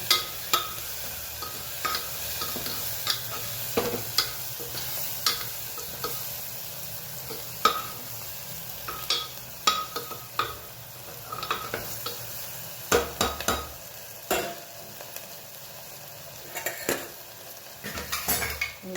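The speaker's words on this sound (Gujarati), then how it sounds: "મીઠું, સરસ મિક્સ કરી લઈએ." Vegetables and salt being stirred and mixed in a frying pan, a utensil scraping and clinking against the pan in irregular strokes over a steady low sizzle, close by, with no talking.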